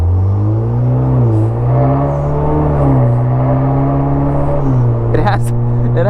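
Vanderhall Carmel three-wheeled roadster at quarter throttle, its engine droning steady and loud with pitch rising and falling as it accelerates, a brief rattle near the end.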